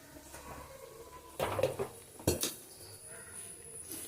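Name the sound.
stirring vegetable curry in a pot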